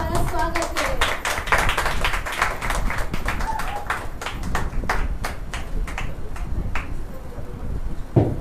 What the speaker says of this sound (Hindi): हम इस समय हम हमारे प्रभु के दास पास्टर अजय का एक जोरदार तालियों के द्वारा स्वागत करें